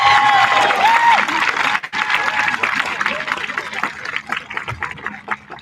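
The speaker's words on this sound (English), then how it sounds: "How about a big round of applause for the Steinhauer class of" Applause for the Steinhauer graduating class at a school promotion ceremony, a crowd clapping loudly with some cheering, dipping briefly then thinning out toward the end.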